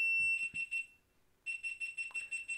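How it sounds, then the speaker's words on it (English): A GoPro camera emits a run of loud, rapid electronic beeps in two bursts separated by a short pause, sharp and tonal against a quiet room. "We're recording with the GoPro, and the GoPro God dang, just did the most insane beepage."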